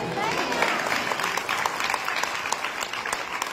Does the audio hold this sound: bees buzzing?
no